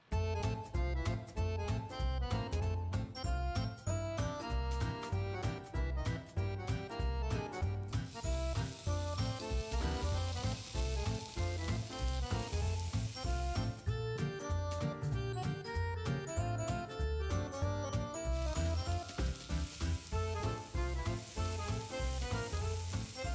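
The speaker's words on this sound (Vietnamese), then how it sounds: "Rồi, chiên cua xong rồi, vớt ra đây." Crab pieces fry in hot oil for a Vietnamese tamarind crab dish, giving a loud, steady, close sizzle that runs without a break, with faint stirring clinks and no talking.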